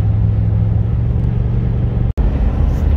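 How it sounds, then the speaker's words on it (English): A Chevrolet Silverado pickup truck pulls up close by, its loud, steady low engine rumble droning throughout, with one brief dropout near the end. "We got C. Bailey right here pulling up in the Silverado."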